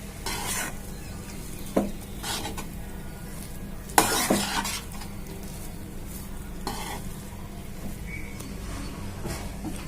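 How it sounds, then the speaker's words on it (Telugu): Gongura masala rice with meal maker being stir-fried in a pan: steady sizzling with scraping stirs of a spatula against metal, including a few sharper clinks, continuing throughout. "ఐదు నిమిషాలు బాగా కలుపుకోవాలండి ఈ గోంగూర అంతా ఈ రైస్కి పట్టాలి"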